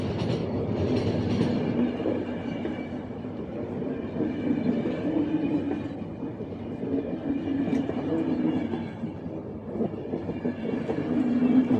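A train rumbles along in the video game The Final Station, with a steady low drone, rhythmic clatter and faint metallic tones throughout, heard alone without voices.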